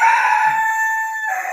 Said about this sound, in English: she got Stormy crowing